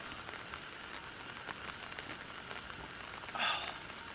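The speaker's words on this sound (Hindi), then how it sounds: "बारिश की आवाज़ कितनी मस्त लग रही है, टप टप टप टप वाली है।" Steady rain pattering on surfaces around a forest campsite in India at night, a continuous soft hiss with a brief louder burst of drops near the end.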